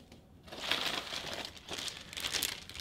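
Close, crisp crinkling of a plastic trash bag from an Estonian military ration pack in irregular bursts of rustling, with no talking.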